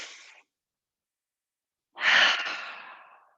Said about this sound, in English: When you're ready, do a full complete exhale. Forcefully out.